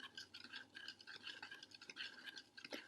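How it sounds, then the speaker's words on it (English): Continuous close scraping of a spoon stirring in a glass during a dissolving experiment, with a steady rhythm of swirls and light clinks and no one talking. "Keep stirring."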